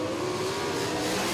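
USAC AMSOIL National Sprint Cars race at Grandview Speedway, one engine roaring loud and close with a rising, sustained whine as the car charges down the front stretch, with no talk.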